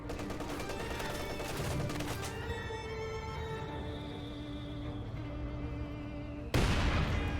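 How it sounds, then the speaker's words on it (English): Heavy 120mm mortar shells landing in a Company of Heroes 2 battle, a dense rumbling barrage under continuous game noise, ending in a sharp, louder impact near the close. "Good 120mm mortar hits there."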